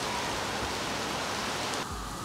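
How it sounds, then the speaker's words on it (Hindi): Heavy rain during Cyclone Nisarga in India, a dense, loud, continuous hiss of downpour drumming on surfaces close by, with no voices. "भाई जोर से बारिश शुरू हो गई है"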